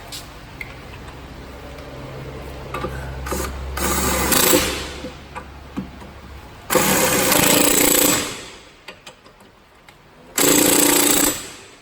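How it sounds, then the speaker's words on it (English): A Snap-on 1/2-inch impact wrench on a swivel runs in bolts during a brake job on a 2004 Nissan Pathfinder: three loud bursts of rapid hammering rattle, a shorter one then two longer ones, separated by quieter shop noise. "Now I'm going to run those in with a swivel, snap-on 1/2-inch impact."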